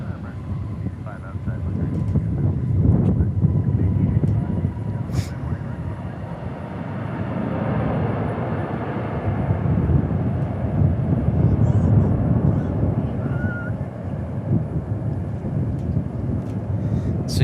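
An Airbus A321neo jet airliner passes at DFW airport, a broad roaring engine rumble that swells and holds for several seconds, heard from a distance outdoors with a voice talking over it.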